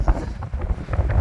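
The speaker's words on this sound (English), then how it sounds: "Some wind trouble trying to blow me down the hill" Wind gusts buffet the microphone on the Yorkshire coast near Ravenscar, producing low, uneven rumbling blasts that rise and fall over a short moment, with no voices.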